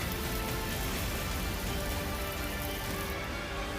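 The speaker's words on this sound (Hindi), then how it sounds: "रुक रुक कर बारिश होती रही" Steady rain falling during a spell of intermittent showers, a dense continuous hiss of drops on surfaces, loud and unbroken with no voices.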